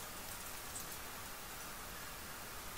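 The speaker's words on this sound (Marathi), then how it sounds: "अवकाळी पावसाच्या सरी आता गोंदियामध्ये बरसताना पाहायला मिळत आहेत" Unseasonal rain falls over Gondiya district in Maharashtra, a soft, even hiss of rain on surfaces that stays steady and fairly faint throughout, with no voices.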